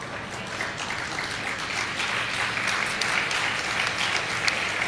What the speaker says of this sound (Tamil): நல்லா பேசலைனாலும் கைதட்டுங்க.